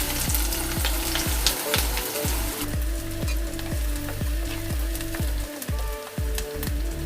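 Sliced onions sizzle loudly as they hit hot mustard oil in a pan for a drumstick-leaf mash, a dense steady frying hiss with regular spoon-stirring knocks throughout, close and alone.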